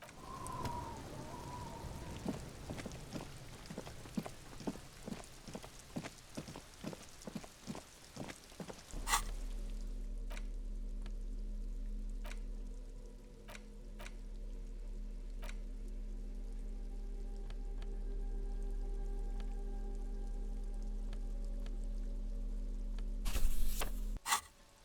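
Steady rain falling in the video game Disco Elysium, a continuous soft hiss that settles in after a stretch of rapid clicks and taps, holding at an even level with faint tones beneath it.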